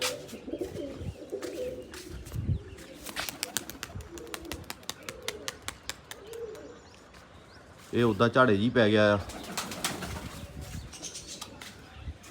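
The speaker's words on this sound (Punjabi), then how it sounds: "ਪਰ ਫੁਰ ਸਿੱਟੀ ਜਾਂਦੇ ਆ ਕਬੂਤਰ" Pigeons kept for competitive flying coo and flap their wings close by, with flurries of wingbeats and a loud burst of throaty cooing partway through, while someone talks over them.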